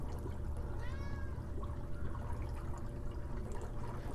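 Water gurgles and trickles steadily down an aquaponics flood-and-drain bed drain, with a brief rising whistle-like squeal as air breaks the suction and stops the flow.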